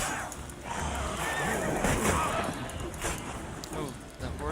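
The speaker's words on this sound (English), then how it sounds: "the horse kicked me?" A horse in The Witcher 3 gives a loud whinnying neigh amid hoof clatter and game sounds, with a voice talking over part of it.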